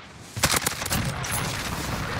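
Rapid bursts of heavy automatic gunfire from a VTOL gunship killstreak in Modern Warfare, loud and close, several sharp volleys at the start and then a sustained rumbling barrage.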